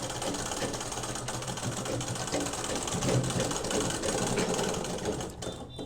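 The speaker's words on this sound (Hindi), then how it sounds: "ये डोरी लेने के बाद यहाँ पर ऐसे सिलाई करेंगे" Sewing machine stitching down a cord, a continuous close mechanical whirr of rapid stitches that holds steady and then eases off near the end.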